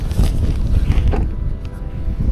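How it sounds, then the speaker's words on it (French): Strong wind on a riverbank while catfish fishing buffets the microphone in heavy, gusting rumbles, loud and close throughout. "il y a un vent de fou"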